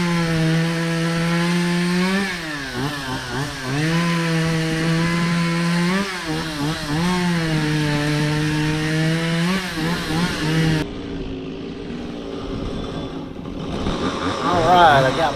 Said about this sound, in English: Runs real good as you can hear it. Opened up the muffler a little bit